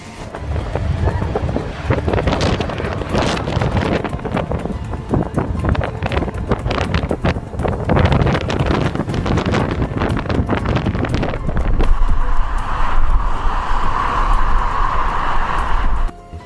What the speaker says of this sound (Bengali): মাঝারি ঝড় ফ্রেডেরিকের গতিবেগ ঘন্টায় 110 কিলোমিটার, তীব্র আড়াআড়ি বাতাস